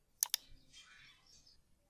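Two quick sharp computer mouse clicks close together, crisp and near, made while working in Photoshop, followed by a faint soft rustle against a quiet background.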